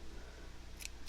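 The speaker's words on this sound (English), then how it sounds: "get a pair of scissors" Scissors cutting yarn for a crocheted cable hat, one or two quick faint snips near the end over a low steady background hum.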